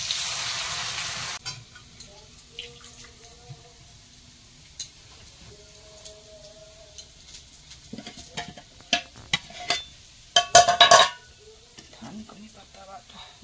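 Food frying in a pan is pressed down lightly by hand, with a soft sizzle, scattered small taps and ticks, and a louder burst of clatter near the end.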